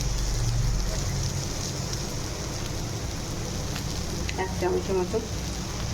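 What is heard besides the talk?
potatoes and pointed gourd sizzling as they fry in a pan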